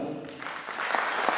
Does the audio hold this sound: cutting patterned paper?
no